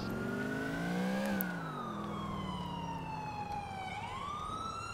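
An ambulance siren in Grand Theft Auto IV wails in long rising and falling sweeps, fairly faint over a low in-game traffic rumble.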